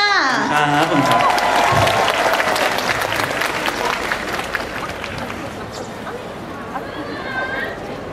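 Applause from a concert audience at a Thai festival in Tokyo, loud and sustained, with a voice over it at the start and the clapping tapering slightly toward the end.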